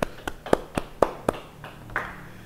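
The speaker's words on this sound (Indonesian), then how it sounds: "Beri tepuk tangan bagi Tuhan" Hands clap during a church Bible study: about seven sharp claps in a steady beat, thinning toward the end, moderately loud with no voices.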